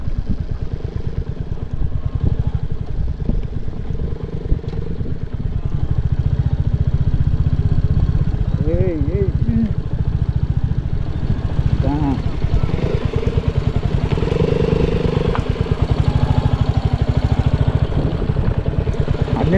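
A motorcycle engine running on a rural road near Shettihalli, a steady close putter and clatter throughout, with people talking over it at times.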